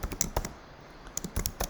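Someone types on a computer keyboard in a few quick bursts of clicky keystrokes, close and fairly quiet, with a short pause in the middle.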